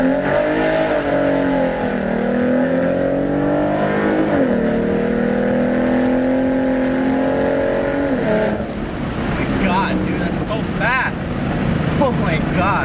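A Mustang with 3.73 gears launches from a rolling start at full throttle on summer tires, the engine roaring loud and close with rising revs and wheelspin, shifting partway through, with excited voices over it.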